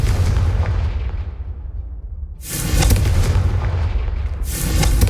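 A Confringo fire spell in Hogwarts Legacy bursts with two loud booming blasts, each followed by a crackling, rumbling fiery roar close at hand.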